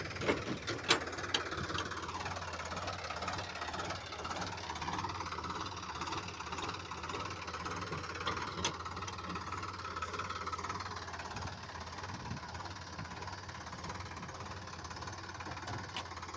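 A Sonalika 35 RX tractor engine idles steadily, a continuous low mechanical rumble with a faint knocking pulse, heard alone without talk for over a dozen seconds.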